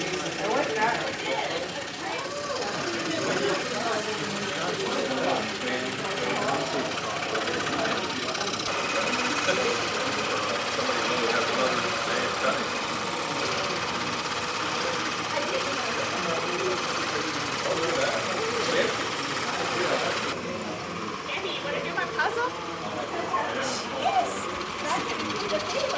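Scroll saw cutting wood during a workshop, giving a steady rapid mechanical buzz throughout, with people talking over it.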